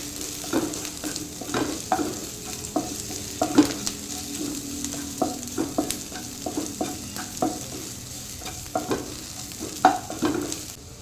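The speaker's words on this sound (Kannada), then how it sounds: "ಇವಾಗ ನೋಡಿ, ನೀರುಳ್ಳಿ ಬೆಳ್ಳುಳ್ಳಿ ಸ್ವಲ್ಪ ಫ್ರೈ ಆಗ್ತಾ ಬಂತು." Onion and garlic fry in a pan with a steady low sizzle, punctuated by repeated scraping and stirring clacks of a utensil against the pan, close and moderately quiet, with no voices.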